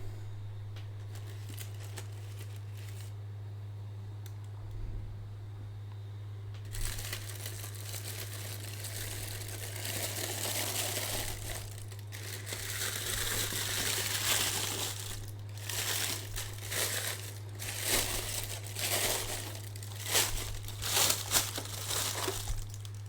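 Collector's edition packaging for MGS3 Remake being carefully unwrapped, with crinkling plastic and paper rustling that is faint at first and grows busier and louder partway through, over a steady low hum, no talking.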